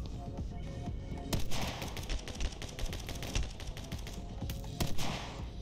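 Rapid bursts of game gunfire from a player's gun in My Friend Pedro, dense and loud throughout, with sharper volleys near the start and end and no talking.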